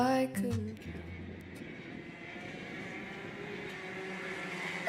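Racing karts in KA3 Junior Heavies qualifying at the IKC Championship round, a steady engine drone carrying on throughout with a brief louder pass at the start.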